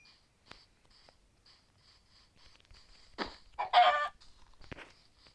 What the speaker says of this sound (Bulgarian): И тук, както виждаме, има и кокошка, което е добре.